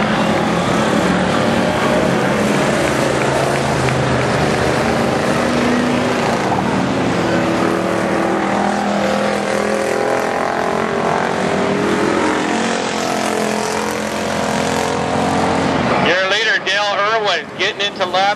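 Pure stock race cars at Barona Speedway roar steadily through the race, engine noise loud and continuous, while an announcer calls the action over it.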